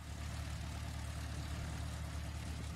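Aircraft turbine engines run up in the X-Plane 11 flight simulator, giving a steady, unbroken low drone with a constant hum throughout and no voices.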